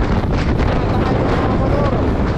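Strong wind buffets the microphone in a continuous loud roar on a road trip through northern Luzon heading toward the windmills, gusting steadily throughout with no clear speech on top.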